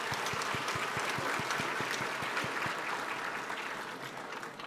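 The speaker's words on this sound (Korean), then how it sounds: "우리에게 선물로 오신 예수님께 영광의 박수 올려드리겠습니다" A church congregation at a Christmas service breaks into applause, a dense, even wash of clapping from many hands that fills the room and tapers slightly toward the end.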